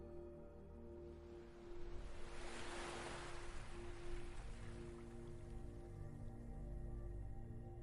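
Gentle waves lapping at the water's surface, a soft continuous wash that swells after a quiet start and then settles into a steady rolling hiss, heard alone.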